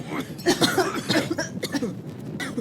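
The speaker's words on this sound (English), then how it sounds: "and they all cough." Several people coughing in the open near a burning car as black smoke drifts over them, bursts overlapping in a loose, irregular cluster at close range.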